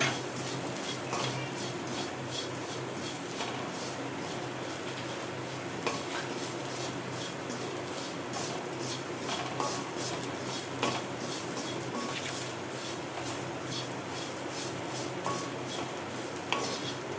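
Homemade chicken sukka fries and is stirred in a pan, a continuous near sizzle broken by repeated scraping and clattering of a spoon against the metal, with no one speaking.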